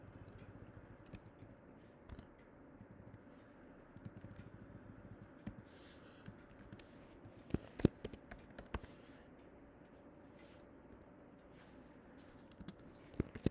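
Java code being typed on a computer keyboard makes faint, quiet key clicks in irregular bursts, with a few louder taps standing out against a low background hum.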